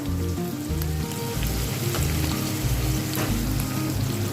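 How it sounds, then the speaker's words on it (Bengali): Spices with turmeric powder frying in hot oil in a pan for a spinach dish, a steady loud crackling sizzle throughout, close and unbroken, with no talking. "দুটোই একসাথে ভেজে নেব দিয়ে দিচ্ছি হলুদ গুঁড়ো"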